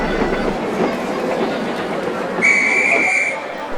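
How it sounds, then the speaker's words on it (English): A steam locomotive pulls coaches with a continuous rumbling chuff and rolling rail noise. A clear whistle sounds partway through. "And with that, 1020 puffed away with Annie and Clarabelle."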